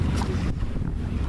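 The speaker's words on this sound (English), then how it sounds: "Full sails. It's a light wind, so we're not flying, but we can make 4 or 5 knots with this 10 knot wind." A sailboat under full sail in light wind of about ten knots, with steady wind rush and microphone buffeting over low water wash, continuous and fairly loud, no voices.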